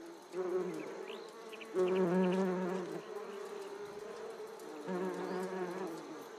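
Honeybees buzz steadily and close up, the drone swelling louder in bursts as individual insects pass near, with no talk over it.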